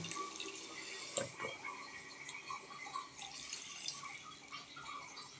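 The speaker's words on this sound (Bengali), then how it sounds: "দিয়ে দিল পরিমাণ মতো পানি" Water poured into a pot of hilsa fish curry with potato and bitter gourd, a faint continuous trickle and splash with a small clink early on, no voices.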